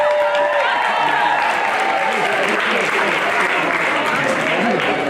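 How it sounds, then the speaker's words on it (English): An audience at a coffeehouse event breaks into a sustained round of applause, with a voice talking over the steady clapping. "Give a round of applause."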